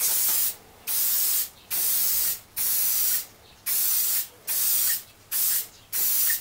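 An aerosol can sprays oil onto a motorcycle air filter in eight loud, steady hissing bursts, each about half a second long, separated by brief pauses. The bursts are close and come in an even rhythm with no talking.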